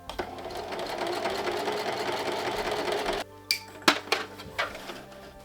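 A sewing machine runs steadily stitching down long fabric panels of a Viking apron dress, then stops, followed by a few sharp clicks and clacks of handling the machine and fabric.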